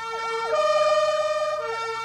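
Fire truck sirens wail loudly in a funeral procession carrying bodies, two overlapping tones sweeping up and down in a steady repeating cycle alongside a sustained horn-like pitch, with no talk.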